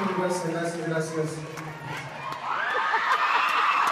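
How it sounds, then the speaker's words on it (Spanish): A concert crowd cheers and applauds after a serenade, a sustained roar of shouts and whoops rising again near the end, with a voice calling out over it. "¡Fuerte aplauso, por favor!"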